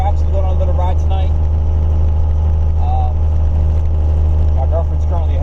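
An OBS 7.3 diesel truck with a 4-link rear drones steadily on a short drive, a loud constant low rumble throughout with brief higher engine sounds, under occasional talk.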